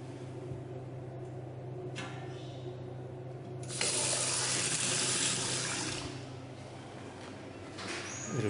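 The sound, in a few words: water running from a tap in a public toilet sink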